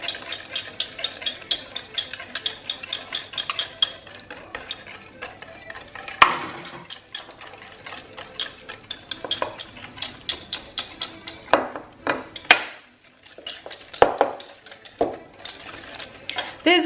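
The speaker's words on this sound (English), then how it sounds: "the sugar and the oil slowly as we whisk to make sure that it all gets incorporated" Sugar and oil being whisked together in a bowl for carrot cake, a busy rhythmic clatter of whisk against bowl with sharper knocks and brief pauses, close and continuous.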